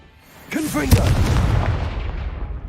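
A loud booming blast from the Confringo spell in a Harry Potter video game goes off just after a short shouted voice, followed by a rumbling decay.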